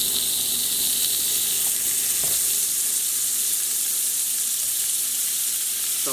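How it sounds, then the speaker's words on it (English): Butter melting and sizzling in a hot pan prepared for a graham cracker pecan pie, a steady bright crackling hiss that carries on evenly throughout with no talking. "You can hear it sizzling."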